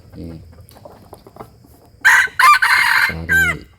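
Two red jungle fowl roosters, a father and son, crow loudly one after the other at close range, with harmonic calls that break off and restart. Faint clucking and rustling come before them.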